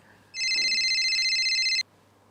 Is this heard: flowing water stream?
no